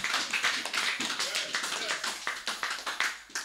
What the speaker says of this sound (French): Acclamez pour la parole de Dieu. Acclamez avec violence.